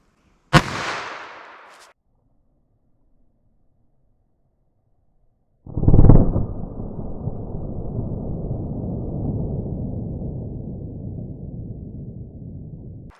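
.22 Magnum rifle firing Critical Defense ammunition during a gel test: a single sharp shot near the start with a brief decaying tail, then silence, followed by a second loud blast that gives way to a long, sustained rumbling noise.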